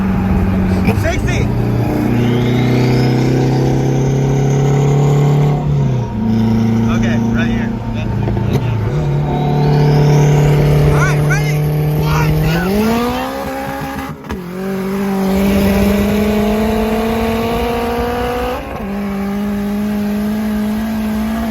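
A turbocharged K24-powered car races a stage 2 tuned Audi TT RS running E85. Loud engines rise in pitch through several gear shifts, with repeated surges and drops as they pull hard, close and continuous.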